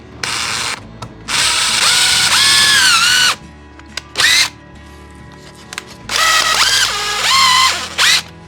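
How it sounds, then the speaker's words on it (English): A power drill drives straight into a workbench in repeated bursts, each winding up to a steady whine and then slowing down, with short pauses between runs and one brief burst in the middle. "Don't mind me just drilling that straight to my workbench."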